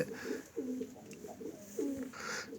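Mixed-breed pigeons, crossbred from two English-type breeds, coo softly and repeatedly, low rolling calls in a loose rhythm, with faint background noise and no talking.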